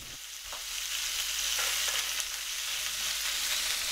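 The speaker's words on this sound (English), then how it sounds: "Once the fry pan is hot, add the yakitori." Yakitori chicken skewers are laid into a hot frying pan and the sizzle swells from a quiet start into a steady hiss. A few faint clinks sound beneath it, and no one speaks.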